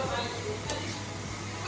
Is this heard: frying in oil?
yes